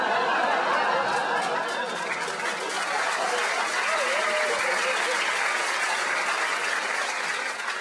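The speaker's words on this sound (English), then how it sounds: "I've got 2 rounds of applause for giving fucking Morrison Boy biscuits and moisturiser" Comedy club audience applauding for a stand-up comedian, a broad sustained wash of clapping at an even level with faint laughter mixed in.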